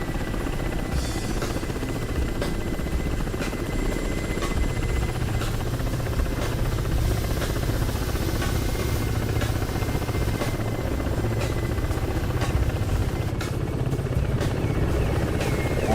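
A helicopter in the combat flight simulator DCS World, wearing a Red Star livery, spins its rotor up for a dogfight competition: a steady, loud low drone with a dense buzzing hum that holds evenly throughout.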